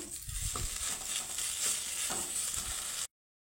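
Spiced potato masala with amchur (dried mango) powder being mixed in a pan, a steady scraping stir over a low sizzle with a few firmer strokes, close and continuous for about three seconds before it cuts off.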